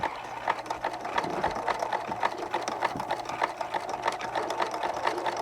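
Domestic sewing machine stitching zigzag and back stitch on a fabric pouch, a rapid steady mechanical clatter, close and moderately loud, running without pause.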